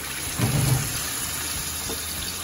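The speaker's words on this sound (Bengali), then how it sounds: "এই তো আমি হালকা একটু পানি দিয়ে দিচ্ছি।" A little water is poured into a pot of chicken biryani, making a short splashing burst early on before settling into a quiet low background.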